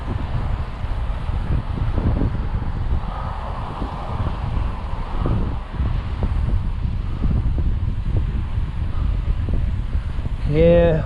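Wind buffets the microphone during a night ride on a Yeti SB66 mountain bike in Las Vegas, a constant low rumbling roar, with someone talking over it.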